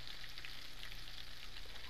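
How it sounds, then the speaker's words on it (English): Green tomatoes frying in hot oil, a continuous dense sizzle with faint crackles and pops, steady throughout with no voices. "I don't know if y'all can hear this popping and sizzling going on."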